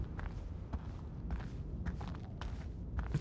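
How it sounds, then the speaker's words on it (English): Footsteps from other players in the video game Eclipsium patter faintly and irregularly over a low, constant background rumble, with no one speaking. "But I hear other people's footsteps"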